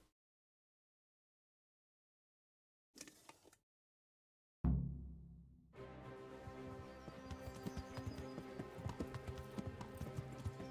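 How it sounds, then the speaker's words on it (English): Horse hooves in Kingdom Come: Deliverance, silence and a brief knock giving way to a steady rhythmic clip-clop of walking hooves over a musical background. "Is this horse gonna be too slow?"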